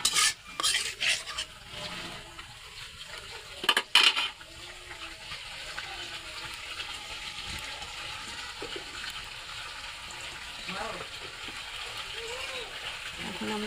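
Water is poured into a pan of fried spices and stirred, making a brief splash and then a soft bubbling simmer with occasional utensil scrapes. A voice talks over the cooking.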